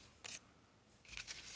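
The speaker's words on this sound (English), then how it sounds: "Good place to use your decorative scissors." Two short bursts of crisp decorative scissor snipping through paper, separated by a quiet pause, close and fairly faint.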